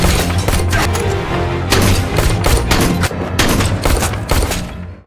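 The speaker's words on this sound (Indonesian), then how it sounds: "Mereka pun saling tembak" Rapid gunfire in a film shootout, bursts of shots and loud booming impacts crowding together continuously, close and dense, with a brief pause before a final volley that cuts off abruptly.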